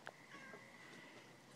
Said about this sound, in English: My outside kitty cat.